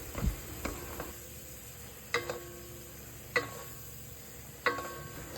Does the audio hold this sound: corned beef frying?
yes